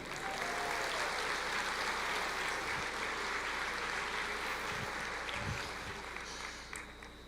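A church congregation applauds during a Portuguese-language sermon, a long, even wash of distant clapping from a large crowd that holds steady and fades slightly at the end.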